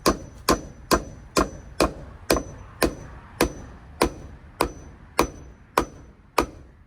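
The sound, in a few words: hammering while building a cat enclosure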